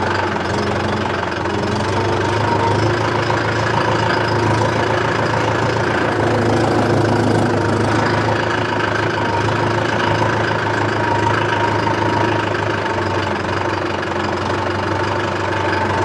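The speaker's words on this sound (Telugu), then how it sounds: "ఇగో ఈ ట్రాక్టర్ చుట్టూ మనం తిప్పుదాం సరేనా రివర్స్" A tractor engine runs steadily while the tractor reverses around another tractor, giving a loud, continuous rumbling drone with a knocking beat throughout and no talk.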